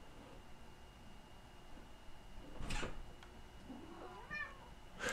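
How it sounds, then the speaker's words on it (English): A house cat meows at a door, wanting to be let in: a thump around the middle, then a clear, fairly close meow near the end, over quiet room hiss with no talking. "Sorry, my cat wants in. Let me just let him in."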